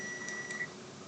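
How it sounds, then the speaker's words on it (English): A kitchen oven gives a short electronic beep, a steady high tone held for about half a second over low room hum, fairly faint and with no talk over it. "Oh, the oven's beeping."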